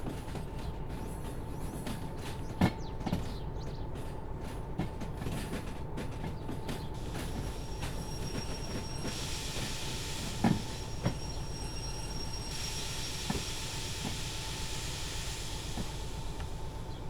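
DE6 diesel locomotive in Derail Valley, a game: a steady low engine drone with rail clatter, occasional clanks and hissing air, running continuously at moderate volume.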